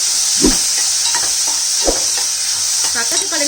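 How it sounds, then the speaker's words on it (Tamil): Tomato frying in a pan with mustard seeds, urad dal and curry leaves, a steady sizzle with a few stirring knocks and scrapes, close and fairly loud. "அடுத்தது வெங்காயம் சேர்த்துக்கோங்க வெங்காயம் எங்கிட்ட இல்லை அதனால நான் வந்து தக்காளி சேர்த்துக்கிறேன் இப்போ இதில் லைட்டாக ஃப்ரை பண்ணிக்கோங்க"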